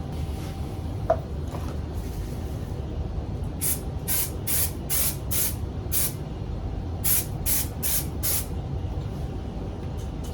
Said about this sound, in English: I'm just going to spray some Super 77 3M